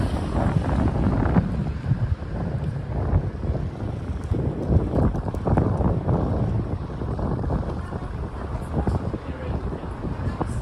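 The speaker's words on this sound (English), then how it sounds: "Ooh, it's getting windy again" Strong wind buffets the microphone in a steady, rumbling roar on a Midtown Manhattan street at night, with gusts rising and falling throughout and no clear break.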